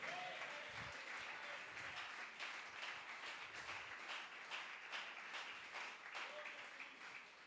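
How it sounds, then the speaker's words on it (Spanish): A church congregation applauds during a sermon, a dense, steady wash of clapping from a crowd that keeps an even level throughout, with faint voices and a few brief calls mixed in beneath the clapping. "Fuerte ese aplauso al Señor."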